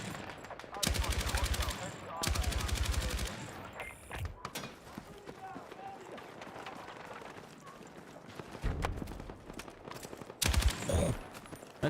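Automatic machine gun fire in the Battlefield 6 video game, two long rapid bursts near the start, then scattered distant gunfire and battle noise, with another loud burst later.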